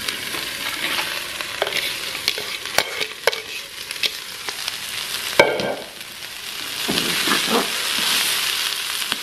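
Onions and cabbage sizzle steadily in a pan, with a constant frying hiss broken by clinks and scrapes of stirring, close up and with no talk.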